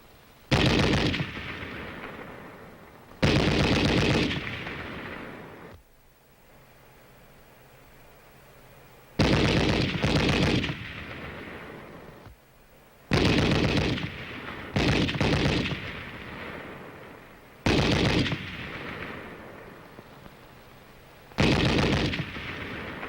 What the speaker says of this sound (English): something for which there is no substitute is the sound of bullets whizzing overhead and the necessity for keeping close to the ground